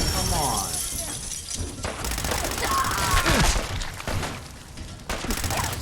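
Gunfire in Fallout 4 comes as a rapid series of cracks and thuds with shattering impacts, loud and close, mixed with game effects and a talking voice.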